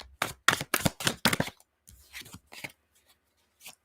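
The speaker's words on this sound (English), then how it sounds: "One more shuffle here." Tarot cards are riffled and shuffled in several quick bursts, then a few softer slides and taps, close and fairly quiet.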